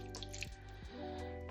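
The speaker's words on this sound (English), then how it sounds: "Add a little more water than that." Water poured into a pan of homemade taco seasoning mix, a short close splashing trickle with a couple of dripping plops, alone with no talking.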